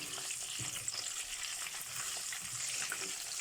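A tomato and pepper mix frying in a pot for Nigerian jollof rice, giving a steady, dense sizzle with faint stirring scrapes, close and continuous, no talking.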